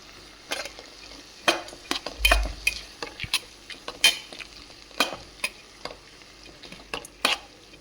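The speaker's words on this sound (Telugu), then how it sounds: "పసుపు వేసి బాగా కలిపెట్టాలండి" A spatula stirs turmeric into a frying mixture in a pan, making repeated close scrapes, taps and clicks against the metal over a soft sizzle, in an irregular stirring rhythm.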